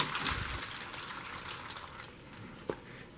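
Water is poured into a seed-starting tray in a steady close splashing stream that fades slightly over a few seconds, with one small splash near the end and no talking.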